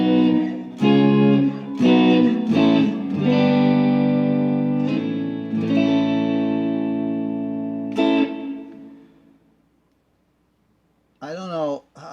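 An IYV ITF-300NA electric guitar played through its bridge pickup with light delay and reverb, ringing chords and notes with a long sustained decay, stopping, then a short bright strum near the end.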